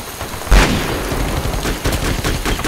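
Rapid bursts of gunfire from the Conflict Vietnam war video game, a loud sharp report near the start followed by dense overlapping shots and rattling fire that carries on throughout.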